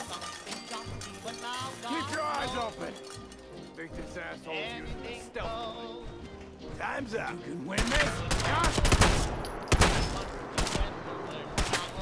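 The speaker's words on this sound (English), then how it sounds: "I don't think that shooting turret thing is doing a very good job." Automated turret fire in Fallout 4, sharp bursts of shots that build into a dense, loud volley in the second half, heard under someone talking.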